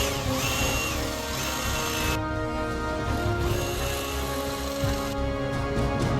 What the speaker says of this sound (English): I drilled the necessary holes for the electronics pack I'm going to fit later on